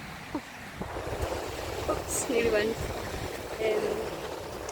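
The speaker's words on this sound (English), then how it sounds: "The waves are still crashing that way." Surf breaking on Crosby Beach near Liverpool, England, a steady washing roar with wind buffeting the microphone as someone walks along the shore and speaks briefly.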